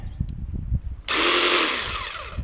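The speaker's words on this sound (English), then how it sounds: "So there you have it, Ryobi 18-volt jigsaw, variable speed." Ryobi 18-volt variable speed jigsaw cutting through siding, a loud close buzzing cut that starts abruptly after some low knocking and then fades slightly over about a second and a half.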